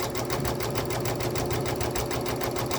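A sewing machine stitches a quilt-in-the-hoop row in gold thread, its needle running in a fast, steady, even rhythm close up and alone throughout.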